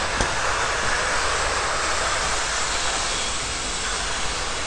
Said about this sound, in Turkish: Can salı şişiyor.